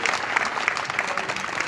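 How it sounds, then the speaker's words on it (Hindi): Dense, loud audience applause at a live program, a steady wash of many hands clapping with no voices over it. "तालियां।"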